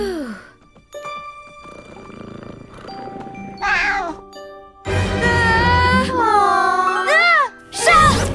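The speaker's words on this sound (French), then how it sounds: "Ah, ce mignon petit chat a un mignon petit collier" A cartoon cat meows several times, bright and close, with rising and falling cries that grow louder toward the end. Soft tones and background effects play under them.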